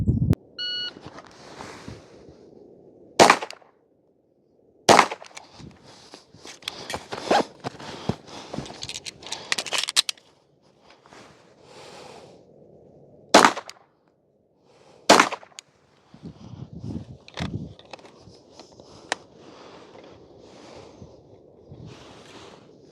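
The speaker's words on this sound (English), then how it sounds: "we will draw, fire 2 rounds standing, conduct a reload, and then fire another 2 rounds kneeling" Handgun shots ring out at a shooting range stage, sharp loud reports in two separated pairs, with handling and rustling between them and quiet gaps, no voices.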